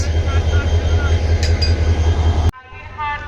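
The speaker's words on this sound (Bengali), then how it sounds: "এখন এই ট্রেনের ইঞ্জিন লাগানো হচ্ছে" A loud, steady low rumble of a train idles at a station while its engine is being coupled, then cuts off abruptly, leaving a quieter hum with faint background noise.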